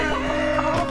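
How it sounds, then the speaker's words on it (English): Chicken clucking in My Time at Sandrock, a short burst of game fowl clucks standing out clearly over steady background music, with no talk. "Finally I heard the proper noise of the chicken."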